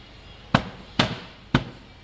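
Four sharp, evenly spaced knocks ring out as wooden panels are hammered into their holes while a dressing table is assembled, each one close and loud with a short decay and quiet between blows.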